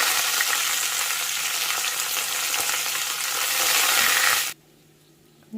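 Curry leaves and dried red chillies sizzle and crackle loudly in hot oil for a steady stretch, then the sound cuts off abruptly near the end, leaving near silence.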